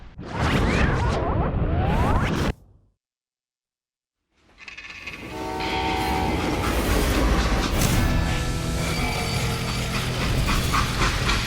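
A freight train in the Western shooter Call of Juarez: Gunslinger rolls loudly along the tracks with steady clattering, rumble and squealing metal, broken by a short silent gap before the heavy, continuous train noise returns.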